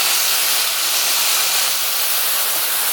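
Beef, vegetables and prawns sizzling on a hot grill, a loud steady broadband hiss of steam and fat crackling, continuous and close with no speech.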